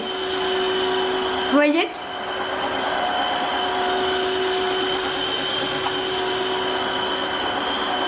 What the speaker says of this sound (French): Hop, il va aspirer et en même temps nettoyer.